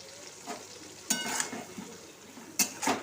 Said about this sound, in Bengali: এই মশলাটা দিয়ে এখন ভালো করে এটাকে কষিয়ে নেব।